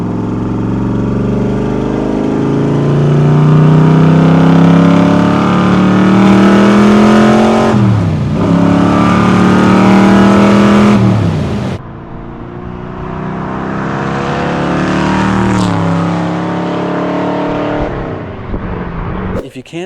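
A 1967 Chevrolet Corvette 427 RestoMod, 500+ hp with multiple carburetors, roars close by as it accelerates hard through rising revs, shifts with brief dips, then pulls again with a loud, throaty engine note.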